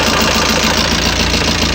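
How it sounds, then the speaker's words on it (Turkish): A car engine idles up close in a repair shop with a steady, rumbling drone and faint knocking, unbroken throughout. "Ama motor sesi bu."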